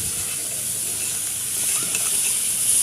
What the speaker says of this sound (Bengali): খালি মরিচ আর এখানে সামান্য হলুদ দিব আর অল্প লবণ দিব, দিয়ে নেড়ে চেড়ে আর ওই চিচিঙ্গাটা দিয়ে দেওয়া হবে।